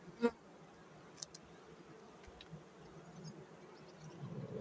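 A soft, steady buzz of many bees from a nucleus hive hums in the background, with a few brief louder bumps and close wingbeats passing by.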